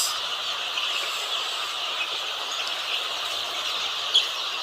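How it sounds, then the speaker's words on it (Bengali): Chickens cluck and squawk in a large poultry shed on a winter morning as feed is given, a dense, steady chorus of high calls carrying from beyond a wall, fairly faint and continuous with one brief sharper cry near the end. "এজন্য অনেক চিল্লাচিল্লি মুরগির"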